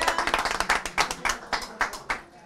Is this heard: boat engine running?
no